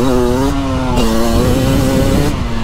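A 2023 Beta 300 Race Edition dirt bike with a simple carburetor and mechanical power valve revs hard close up, its engine note rising and falling in one continuous loud, buzzing pull without any talk.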